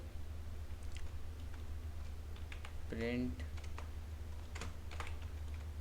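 Code being typed on a computer keyboard comes through as sparse, quiet key clicks with a small burst of taps in the middle, over a low steady room hum.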